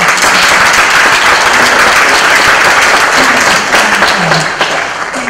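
Sustained audience applause at a lecture on the Cambodian genocide, loud and dense clapping from a seated crowd that carries on evenly and tapers slightly toward the end.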